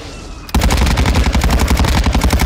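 Loud rapid automatic gunfire in the video game Call of Duty Warzone bursts in suddenly after a short quiet moment and continues as a fast, evenly spaced stream of close shots.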